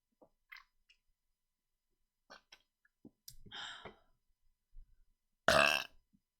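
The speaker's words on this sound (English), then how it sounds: "It's a competition of who's got the best burps." A loud burp after drinking beer during a burping contest, preceded by small clicks, a mouth noise and a brief vocal sound.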